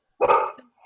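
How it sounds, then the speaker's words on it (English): A single short dog bark rings out over a remote video call, close and fairly loud, and then fades quickly into quiet. "Your dog?"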